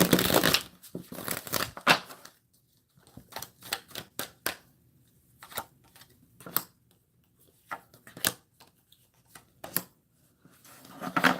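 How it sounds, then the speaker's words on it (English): Crisp riffling shuffles of tarot cards arrive in quick bursts separated by short pauses, close and fairly loud, with no one talking. "One more shuffle."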